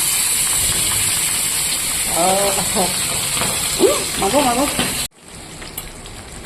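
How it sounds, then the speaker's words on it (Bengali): Loud, crackling sizzle of salt-and-turmeric-coated fish frying in hot oil while a woman exclaims in alarm; the sizzle suddenly drops to a quieter hiss. "মাছটা এবার আমি দিয়ে দেবো ভাজার জন্য"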